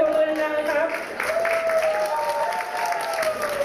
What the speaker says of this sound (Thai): ขอเสียงปรบมือให้นะครับ